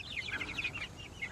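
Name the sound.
chickens clucking in coop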